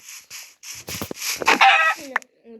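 Chickens cluck and crow in a video game, with several separate bursts of clucking and a crow-like call building up, heard fairly close with little else around.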